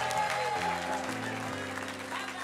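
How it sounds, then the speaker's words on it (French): A church congregation applauding, a broad wash of clapping under sustained music with held organ-like chords, fairly faint and even. "Est-ce qu'on peut applaudir la série pour les relations"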